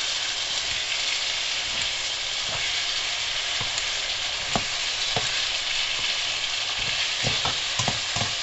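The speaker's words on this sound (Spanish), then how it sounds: "Primero vamos a que se fría el ajo muy bien." Garlic fries in a pan with a steady, dense sizzle and crackle, with occasional sharper pops and stirring scrapes throughout and no talking.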